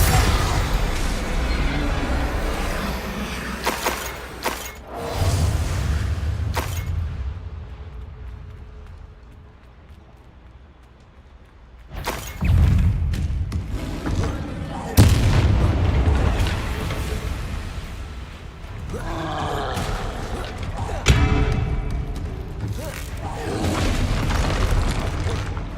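Spell explosions from Bombarda and other combat magic in the Hogwarts Legacy video game: repeated loud booms and blasts over a busy combat soundscape, with a brief quieter lull midway before the explosions resume.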